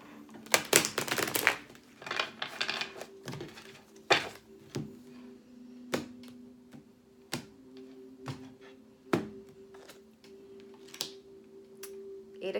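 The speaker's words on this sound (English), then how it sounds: "Do a quick shuffle of this cards and I'm going to cut the deck." A deck of tarot cards shuffled and then cut, a flurry of close papery slaps and rustles at the start followed by a series of separate sharp taps and thuds spaced a second or so apart.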